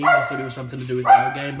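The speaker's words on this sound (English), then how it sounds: "Sorry about the dog barking" A dog barks indoors in a few sharp, loud yaps and whimpering yips that fall under and between a man's close speech.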